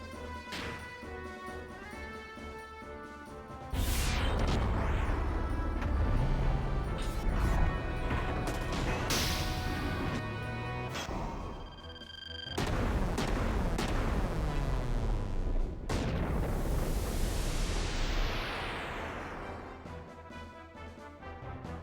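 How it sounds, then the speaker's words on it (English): DMX launcher in a video game firing explosive blasts: a long, loud barrage of booming impacts and crackling debris, with rising whooshes and layered rumbles, broken by brief pauses before renewed bursts. "Jesse Blaster, the DMX launcher."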